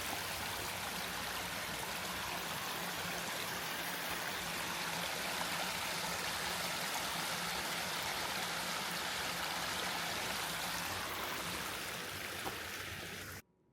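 Water rushes at the bottom of a spillway on a nature trail. It is a steady, broad wash of flowing sound, fairly soft and constant, with no voices, and it cuts off abruptly at the end.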